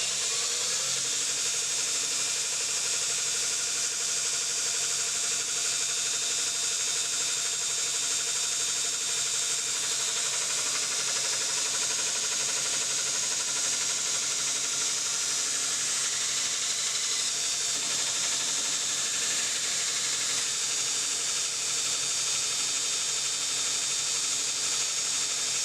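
A belt grinder runs a 240 grit ceramic abrasive belt, giving a continuous, even hiss of sanding with a steady motor drone underneath, close by and uninterrupted, with no voices.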